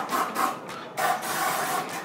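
An aerosol electronics-rescue spray hisses into the openings, coils and windings of a water-soaked electric drill in several close, breathy bursts with brief gaps.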